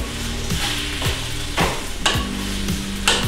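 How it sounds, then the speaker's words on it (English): Onions sizzling steadily in a pan while being stirred for a Japanese beef curry, with several scraping strokes of a utensil across the pan over a constant frying hiss, close and clear. "we're going to let those onions cook until they're nice and caramelized"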